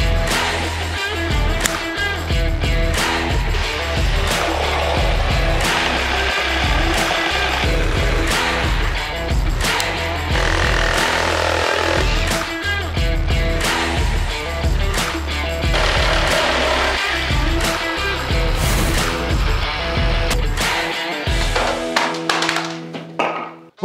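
A 20-volt cordless jigsaw buzzes continuously with rapid rattling chatter as it cuts through wood, loud and close, before cutting off abruptly at the end.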